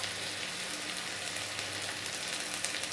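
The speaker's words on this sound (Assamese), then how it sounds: "এইখিনি অকণমান ৰংচোৱা হ'লৈকে ভাজি ল'ম পিঁয়াজখিনি" Onions fry in a pan with turmeric and salt for a chital fish curry with green peas and tomato, giving a steady, dense sizzle that stays even throughout with no voices.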